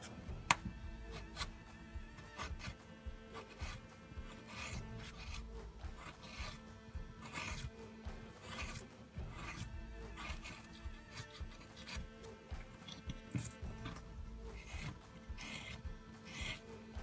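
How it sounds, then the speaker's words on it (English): Rolled sandpaper rubs over a carved wooden hitch piece for a scratch-built model log splitter, making a faint, steady rasping scrape of repeated strokes throughout. "it can sometimes be easier to get a little roll of sandpaper rather than a flat bit"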